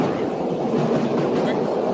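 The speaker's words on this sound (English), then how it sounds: "Hold on, this train going by." A train passes by, giving a steady, loud rumbling roar with faint rail clatter that fills the whole clip without a break.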